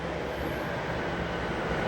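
A train rumbles through Vaughan Metropolitan subway station, the northern terminus of Toronto's Line 1, making a steady, broad roar that holds even and moderately loud throughout with no speech.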